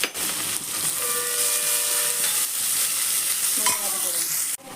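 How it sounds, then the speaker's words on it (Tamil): Chopped onions fry in hot oil for a biriyani while being stirred, making a loud, continuous close sizzle with scraping stirs and a brief clatter near the end; no one speaks. "வெங்காயம் நல்லா பொன்னிறமாக வதங்கிடுச்சு."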